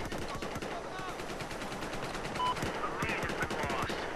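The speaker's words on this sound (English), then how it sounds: "Got teammates over here shooting at something." Teammates firing guns in the video game Battlefield 4: rapid machine-gun bursts and scattered single shots crackle continuously, some near and some distant, over a dense background of battlefield noise.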